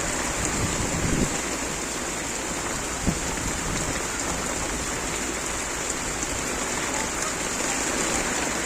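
Heavy rain pours with strong wind over a river with high waves, a dense, steady hiss of downpour close by, broken by a couple of brief thumps.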